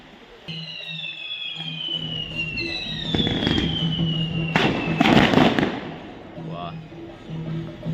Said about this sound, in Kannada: ಇಲ್ಲಿ ಪಟಾಕಿ ಹೊಡಿಲಿಕ್ಕೆ ಸ್ಟಾರ್ಟ್ ಮಾಡಿದ್ರು